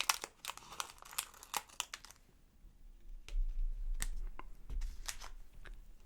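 Several sharp snips and crinkly cuts of a thin Pokémon trading card pack opened with scissors, close and crisp, in quick bursts with short pauses between.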